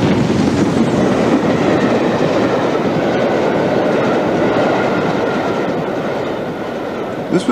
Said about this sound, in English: BR have also promoted holiday steam trains along the North Wales coast, where 5407 was an early performer